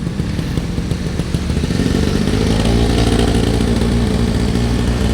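A small two-stroke scooter engine runs steadily up close, a buzzy, rattling idle that holds at a constant level with no talking.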